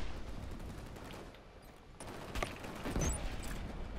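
Sustained, fairly faint gunfire from the Killzone Shadow Fall shooter, with overlapping bursts and scattered individual shots forming a steady battle din and swelling slightly toward the end.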